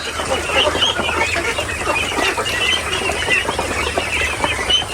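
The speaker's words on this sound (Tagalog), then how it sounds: "yung mga nauna nating itik kanina, yan po sila" A large flock of domestic ducks quacks and chatters nonstop at close range while feeding on a grassy range, with many overlapping calls forming a dense, busy din.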